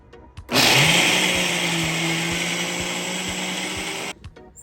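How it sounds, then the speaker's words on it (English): A blender whirs on with a sudden start, runs loud and steady for about three and a half seconds while blending peanut soup ingredients with pepper, then cuts off abruptly. "So it's time to blend."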